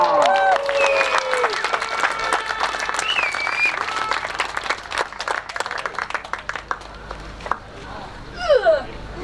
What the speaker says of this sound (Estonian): Teine koht poodiumil, kohad 200 Kagu motoklubi omamees ja kõva aplaus Robert